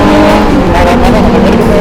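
A naked big-bike motorcycle pulls away hard nearby, its engine climbing in a loud sustained roar as it accelerates, with riders' voices chattering faintly underneath.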